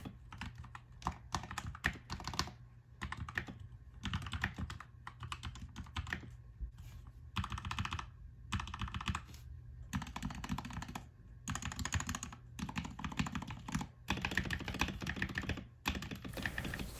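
Steady typing on a modded RedDragon K530 mechanical keyboard, close and clear, with rapid clacky keystrokes and occasional deeper thocks from the spacebar, pausing briefly now and then.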